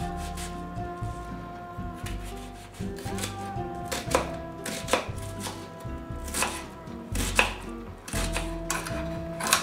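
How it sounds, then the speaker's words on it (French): An onion being finely chopped with a knife on a board, a steady run of close, crisp knife taps with short pauses between bursts, alone without talk. "éplucher l'oignon et hacher-le finement."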